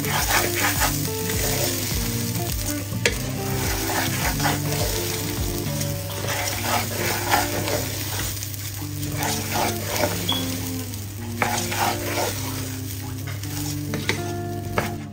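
Rice frying in a pan for hilsa polao while being stirred: a steady close sizzle with frequent scraping and grainy rattling from the spoon, continuous throughout with no voices.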